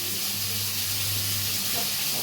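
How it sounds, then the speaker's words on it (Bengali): Fish frying in a pan, giving a continuous, even hissing sizzle that holds steady throughout the brief stretch. "মাছ ভাজি করতেছি"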